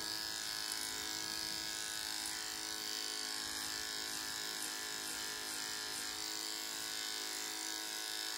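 Electric hair clippers fitted with a 4 mm guard run steadily while cutting a short buzz cut, a constant close electric buzz with high whine lasting throughout, no talking.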